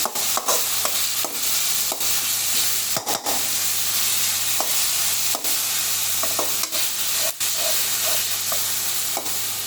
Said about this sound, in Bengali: রসুন বাটাগুলো দিয়ে দিলাম এখন দুটো একসাথে ভাজি করা হবে